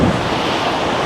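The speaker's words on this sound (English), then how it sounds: "it's also too windy today" Strong wind blowing on an Athens seashore, a steady broadband roar with surf churning underneath, loud and continuous with no voices.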